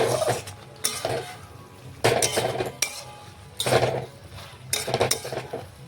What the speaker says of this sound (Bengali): এখন আমি ভেজে রাখা ভেন্ডি ওপর থেকে দিয়ে দিচ্ছি, দিয়ে নাড়াচাড়া করে মিশিয়ে নিলেই